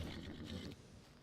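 A large horse in Red Dead Redemption 2 gives a brief, close neigh or snort lasting about a second, rough and breathy, with no talk over it.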